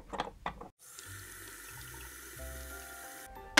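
After a few soft handling knocks, water runs steadily into a toy coffee machine for nearly three seconds, a close, quiet trickling pour.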